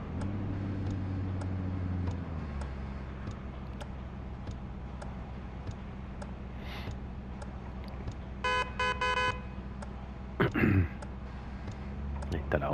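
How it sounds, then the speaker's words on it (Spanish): A pickup truck horn in the Truck & Logistics Simulator video game honks in a few short bursts near the end, over steady engine drone and clicking. "Ahí está la bocina"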